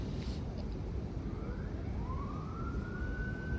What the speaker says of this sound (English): And, the sirens.